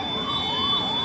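An ambulance siren wails through congested traffic, its pitch sweeping up and down steadily, moderately loud under a constant engine and road rumble.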